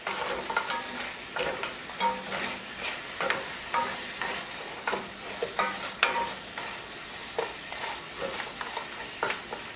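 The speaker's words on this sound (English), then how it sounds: "Give that another quick little stir." Curry crab with diced tomato being stirred in a pot, a steady sizzle underneath with repeated scraping strokes of a spoon and soft knocks against the pot, fairly close and with no talk.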